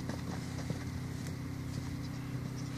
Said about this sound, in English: Is that the first time she cantered her?